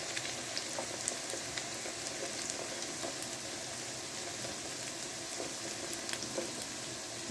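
Onions fry in a pan with a continuous soft crackling sizzle, even and moderately quiet, with faint pops scattered throughout and no voices.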